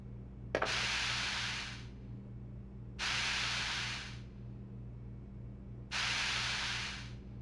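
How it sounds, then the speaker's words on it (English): Pesticide spray can in Resident Evil Outbreak, three separate long hissing sprays of about a second and a half each, evenly spaced, loud and close over a steady low game hum. "Now here's the pesticide spray being equipped by all characters in the game."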